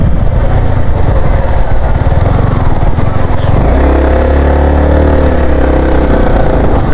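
A motorcycle engine runs loud and close, with a steady throaty drone that deepens and settles partway through, and no voices over it.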